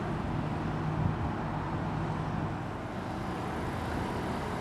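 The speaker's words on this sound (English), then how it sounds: "the Volvo FH coming in, presumably to pick up a trailer on a changeover" A Volvo FH truck pulls into a truck stop on the A5 at Cannock with a low, steady engine rumble at a moderate distance. Road traffic drones beneath it and no one speaks.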